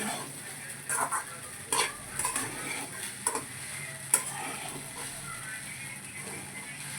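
Sabudana khichdi browning in a pan while being stirred, giving a faint steady sizzle with scattered spoon scrapes and light clinks against the pan, and a voice faintly in the background.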